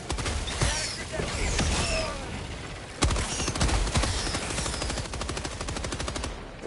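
Rapid automatic gunfire in the video game Helldivers 2, with long bursts of closely spaced shots. Brief pauses and scattered impacts break the firing, while a player's voice comes through faintly in places.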